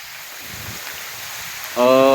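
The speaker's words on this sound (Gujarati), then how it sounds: "વરસાદ આજે જ ચાલુ થયો છે" Rain falls as a steady broadband hiss, with a voice starting to talk over it toward the end.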